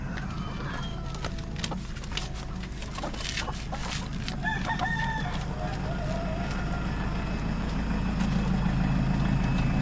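Chickens on a farm, including three-week-old RTL birds, cluck steadily with a rooster crow partway through, over constant loud background noise and some talk.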